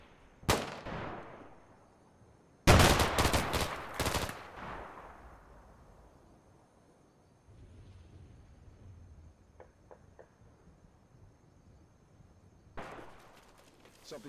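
Gunfire in the Combat Mission Shock Force 2 video game as squads engage across a wall: a sharp shot, then a loud rapid automatic burst, then fainter distant pops and a final short volley amid quiet lulls.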